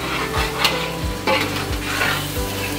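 Mutton masala with whole garlic cooks in a pan, sizzling and frying steadily under repeated stirring scrapes that come about every two-thirds of a second. No voices.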